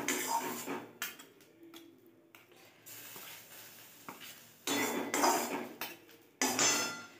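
Cooked kharkol leaf bharta being lifted from the pan into a bowl and onto a plate in a village kitchen: sharp metallic scrapes and clinks of spoon on cookware in irregular bursts, with quiet gaps between them and no talking.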